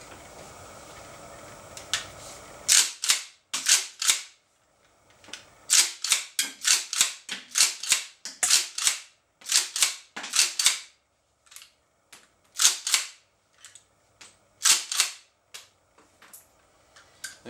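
Remington 7615 rifle cycling and firing rounds from a 10 round magazine outdoors, showing ejection problems: many sharp loud cracks, paired with metallic action clacks and separated by pauses, with no talk.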